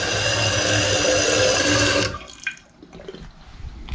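A toilet fill valve runs with water, a steady loud hissing rush that cuts off after two seconds, leaving quieter trickles and drips.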